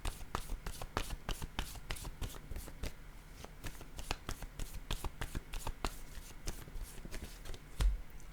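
Tarot cards are handled and placed down during a reading, producing a rapid run of crisp, close card snaps and slaps, each one sharp and brief, with no speech over them.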